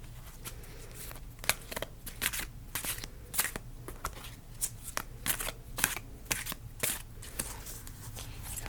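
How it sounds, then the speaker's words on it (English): A deck of tarot cards is shuffled by hand in a quiet room, giving soft riffling bursts and crisp snaps in an uneven rhythm, close and fairly quiet. "I'm gonna shuffle a little more."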